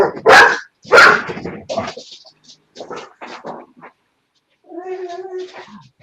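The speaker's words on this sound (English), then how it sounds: "Dogs. Someone walked past the door." Dogs bark loudly indoors at someone walking past the door, with a couple of strong barks up front, then scattered smaller yaps and a whining, whimpering tone near the end.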